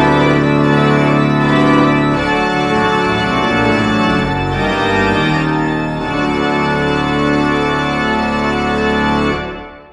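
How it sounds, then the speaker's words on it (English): Pipe organ sounding full, sustained chords with rich layered pipe tones, loud and continuous for about nine seconds before cutting off, with no talking. "pipe organ is an instrument, and it is a machine made of many parts that work together."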